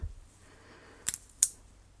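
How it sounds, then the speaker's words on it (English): Small scissors on a pocket knife snip twice in quiet surroundings, two sharp, close metallic clicks about a third of a second apart, with a faint handling thump at the start. "It's got a lovely pair of scissors."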